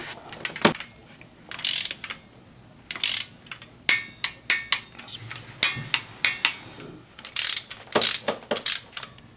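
A ratchet tightens the intake manifold bolts on a Chevy 3.8L engine, sounding as close, crisp bursts of rapid clicking separated by short pauses, repeated about a dozen times with no talking.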